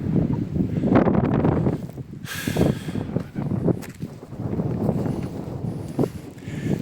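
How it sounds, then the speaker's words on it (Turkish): Steady wind buffets the microphone in rough, rumbling gusts in a cherry orchard, with a brief rushing swell partway through; no voices are heard. "Çok rüzgar var şimdi."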